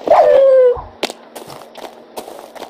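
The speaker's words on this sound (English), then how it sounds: "Oh, I found a dog." A wolf in the Minecraft video game gives a drawn-out whining howl up close at the start, followed by a few short faint clicks and taps.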